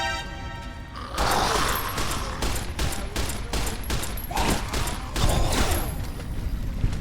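Rapid bursts of video game gunfire, many sharp cracks firing in quick irregular succession after a brief quieter opening, loud and close throughout.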